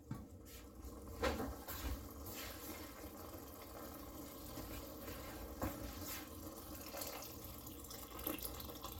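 Water is poured into a pot of split yellow peas and red lentils for a dhal with lemon juice, a faint, steady splashing trickle that rises and falls over several seconds in a quiet kitchen.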